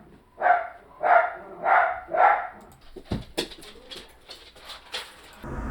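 Dogs bark four times in an even rhythm, loud and close, followed by scattered clatter and shuffling sounds.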